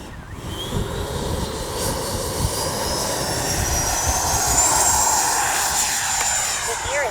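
Freewing 90mm F-22 V2 RC jet taking off on a windy day, a steady loud ducted-fan whine with broad roaring rush holding throughout, the tone sliding higher partway as it speeds away.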